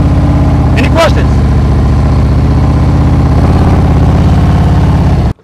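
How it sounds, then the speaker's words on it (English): Motorcycle engine idling steadily with the throttle held loaded during slow-speed riding practice in Ohio, a continuous close, loud drone with a brief rev near the start, a voice talking over it, then cut off abruptly at the end. "the whole time I'm sitting there, I'm not moving, you still hear my throttle up"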